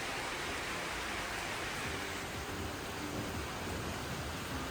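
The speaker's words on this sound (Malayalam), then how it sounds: "പുറത്ത് അത്യാവശ്യം നല്ല മഴ പെയ്യുന്നുണ്ട്" Heavy rain pours down steadily, a dense, unbroken hiss of falling water with no pauses.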